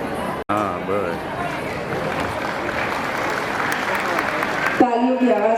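An audience at a December carnival function applauds, steady clapping mixed with crowd chatter, while a voice speaks over it on a microphone toward the end.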